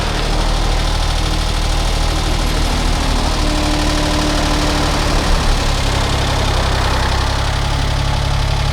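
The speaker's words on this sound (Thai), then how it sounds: "เดี๋ยวจะให้ดับเครื่องแล้วก็สตาร์ทใหม่ลองดู" A small used excavator's engine idles steadily with a low, rumbling diesel knock and constant vibration, running alone and close by for the whole stretch.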